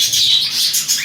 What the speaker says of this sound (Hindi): देखो मेरा मिट्टू भी उठ चुका है मेरे भाइयों से पहले, और हमारे सारे बजीज़ और कॉकटेल भी उठ गए हैं।